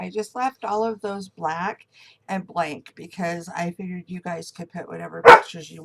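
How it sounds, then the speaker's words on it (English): A person speaks steadily with short pauses, and near the end a single sharp, loud dog bark cuts in close by. "Sorry about my dog barking."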